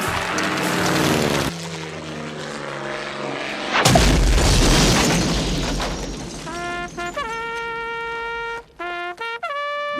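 A blimp in a SpongeBob cartoon drones by with a propeller engine, then crashes in a loud booming impact with a rumbling aftermath, followed by brassy cartoon horn tones.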